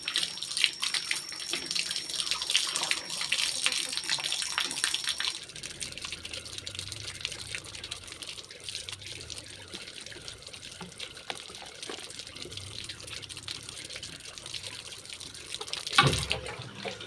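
Tap water runs and splashes while a water gallon dispenser tap is rinsed, a steady faint trickle and spatter nearby with a brief louder gush near the end.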